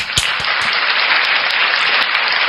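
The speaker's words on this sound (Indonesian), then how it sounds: "Luar biasa, tepuk tangan buat Sadaman" Loud, dense applause from an audience at a religious talk, a continuous wash of clapping with a few sharp individual claps standing out early on, close and steady throughout.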